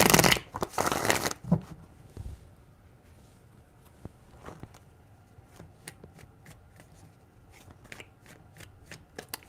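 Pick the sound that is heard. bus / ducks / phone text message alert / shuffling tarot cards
shuffling tarot cards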